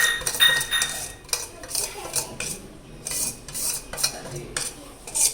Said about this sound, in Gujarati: બધા નાખી મીઠું મરચું હળદર હિંગ અને જે મસાલા છે એ બધા આપણે મિક્સ કરી દઈશું